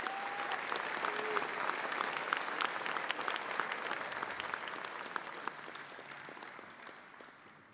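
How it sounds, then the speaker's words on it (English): An audience applauding high school athletes at a sports hall of fame ceremony, sustained clapping from a crowd in a hall that holds steady and then slowly tapers off, with a few brief voices. "a round of applause"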